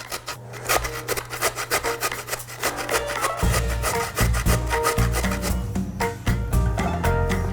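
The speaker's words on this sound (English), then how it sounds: "So I'm doing the carrot now on the small side of the grater." A carrot rubbed across the small holes of a hand grater, a steady run of rapid, close rasping scrapes with no talk.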